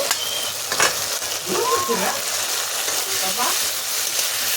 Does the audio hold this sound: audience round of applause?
no